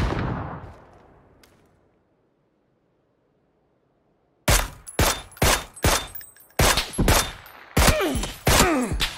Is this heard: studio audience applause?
no